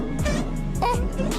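A car engine revs in several throaty bursts, rising and falling in pitch, loud and close with a steady rumble underneath.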